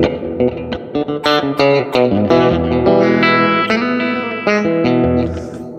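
Electric guitar, apparently a Telecaster with a honky tone, played through a Line6 HX Stomp XL preset with amp, EQ and a big reverb, picking a bright melodic phrase of plucked notes and chords that ring out into a wide, washy tail, loud and alone.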